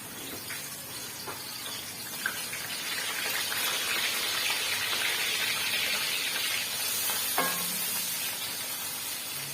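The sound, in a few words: onions sizzling in the pot for pulao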